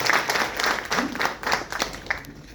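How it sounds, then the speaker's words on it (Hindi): Audience at a business meeting in Ranchi applauding enthusiastically, a burst of many hands clapping close and steady for over two seconds, with no one talking. "इनके लिए एक बार जोरदार ताली बजाइए"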